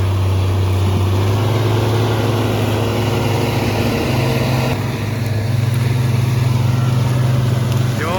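A tractor pulling a disc harrow uphill through a harvested corn field, its engine droning loudly and steadily under load, with the pitch shifting partway through as it strains and then recovers.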